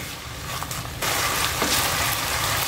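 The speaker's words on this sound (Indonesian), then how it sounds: "Lalu kita tumis untuk bumbu halusnya." Spice paste with lemongrass, lime leaves and bruised ginger sautés in oil for squid in Padang sauce, a dense frying hiss that jumps louder partway through as the paste hits the oil, no talking.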